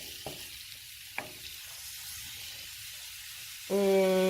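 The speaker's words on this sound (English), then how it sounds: "just stir them a little bit so you can get them coated in that olive oil" Vegetables sizzle in olive oil in a skillet, a steady hiss with a couple of faint scrapes from stirring, and then a tonal hum comes in near the end.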